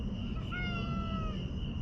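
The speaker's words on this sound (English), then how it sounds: "This is a new cat that's been coming around for a couple of weeks now. Came from the mobile home over there. And he meows all day and night." A male cat near a mobile home meows once, a drawn-out, slightly wavering cry, mid-distance over a steady low background rumble; no talk.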